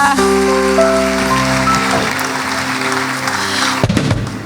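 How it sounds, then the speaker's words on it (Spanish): Church congregation applauding, a dense clatter of many hands under sustained music, held steady before ending with a few closing knocks. "Dele un fuerte aplauso al Señor."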